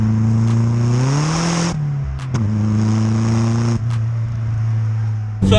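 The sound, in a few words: VW 6N2 Polo with 1.8 turbo engine accelerating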